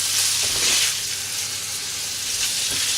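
Chicken pieces sizzle and stir-fry in a hot pan with a loud, steady hissing crackle, plus a few soft scrapes as they are spread out.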